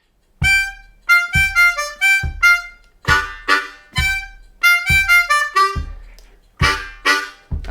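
A harmonica in C plays a short funk lick of clear, separated notes, mostly repeated in a bouncing rhythm, close and loud with no talking.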